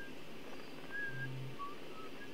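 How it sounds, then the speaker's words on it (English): A thin, wavering whistle from the moon drifts over a low ambient hum in the space exploration game Outer Wilds, faint and intermittent with brief rising tones. "The whistling is the moon."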